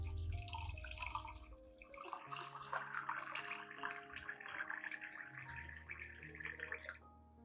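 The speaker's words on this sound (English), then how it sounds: "Add 500 milliliters of clean water to dilute the solution" Clean water pours steadily into a container to dilute a homemade banana peel and coffee ground plant solution, making a continuous splashing trickle with drips that stops near the end.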